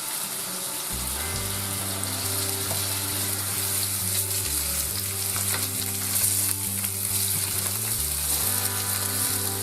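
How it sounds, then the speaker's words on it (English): Beef sears in hot butter in a frying pan over maximum heat, giving a loud, steady sizzle and crackle close up that runs throughout, under a low background music bed, with no talking. "When the butter is hot enough, we're going to give the beef a nice roast on the outside"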